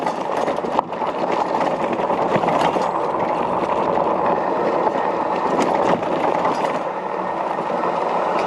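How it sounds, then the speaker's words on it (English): Knobby tires on a RadRover 6 Plus electric bike give a steady, loud, broadband rolling hum and rush that continues evenly without a break, with a few small bumps, and no talking. "You just start to hear that hum, that woo of the knobbies."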